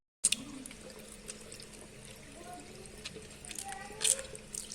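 Water runs and trickles over hands being washed, starting abruptly after a brief silence and continuing at moderate level with small splashes, faint and close.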